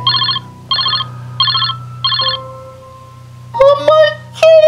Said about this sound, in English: my phone finally rang